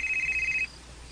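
A cellphone ringtone chimes loud and close for about half a second with a bright warbling tone, then cuts off into quiet room tone.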